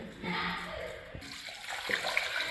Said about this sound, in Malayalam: ഒരു ഉരുളക്കിഴങ്ങ് മുങ്ങാൻ ഭാഗത്തിന് വെള്ളയിച്ച് കൊടുക്കുന്നുണ്ട് കേട്ടോ